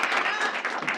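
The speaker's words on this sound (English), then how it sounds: "let's give it a round of applause for Anna Thompson." A meeting audience applauds in a brief burst of clapping for a colleague. The clapping is steady and fairly close, with a faint voice mixed in.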